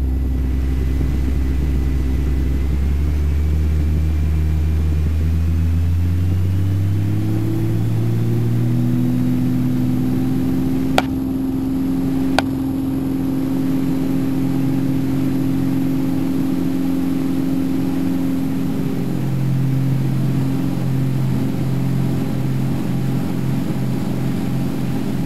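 An Extra 105 light airplane's engine rising in pitch and power during the takeoff roll on runway 31 right, a steady loud droning rumble throughout with a couple of brief clicks.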